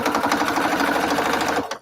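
A home sewing machine runs steadily at a fast, even stitching rhythm, close and loud, with no talking, and stops abruptly at the end.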